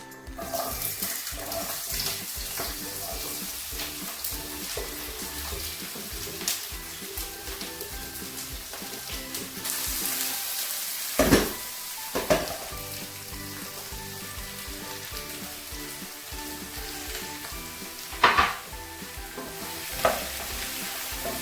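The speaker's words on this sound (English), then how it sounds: "Stir fry." Vegetables stir-fry in a hot pan with a constant close sizzle, broken now and then by sharp scrapes and knocks of the utensil against the pan; no voices.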